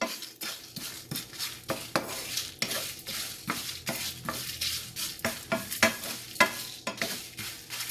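Chicken alfaham roasting in a pan over a medium flame, with a steady close sizzle beneath regular scraping and clinking from a utensil being stirred against the pan, heard alone without any talking.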